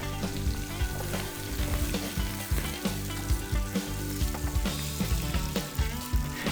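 Pork belly fries in oil in a pan, browning for Filipino-style humba: a steady, loud sizzle runs throughout with frequent crackles and pops, alone with no talk.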